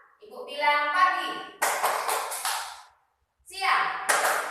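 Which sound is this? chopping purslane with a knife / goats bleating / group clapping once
group clapping once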